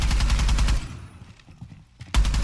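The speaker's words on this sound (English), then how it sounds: "Shooting everywhere." Close, loud automatic gunfire from a Rainbow Six Siege round rattles in a rapid burst, falls into a quiet pause, then resumes abruptly near the end.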